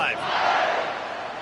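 A college football stadium crowd at a Texas versus Georgia game roars at kickoff, a loud, sustained wash of cheering that fills the whole stretch and eases slightly toward the end.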